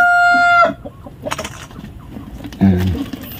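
Black Australorp chickens near their eggs, one loud nearby rooster-like call ending abruptly, then scattered soft clucks and a sharp squawk close by.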